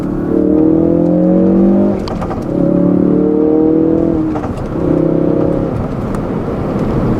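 A 2016 Ford Focus RS engine revs in three loud, close bursts, each swelling and holding a droning pitch before dropping away, with brief lulls between them.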